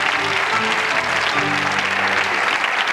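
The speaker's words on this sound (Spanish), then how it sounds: "Un aplaudiment per l'Oriolito." On a Catalan TV comedy show with Chiquito de la Calzada, the studio audience gives a guest, Oriolito, sustained loud applause, a thick continuous clatter of hands with a faint low tonal hum running underneath.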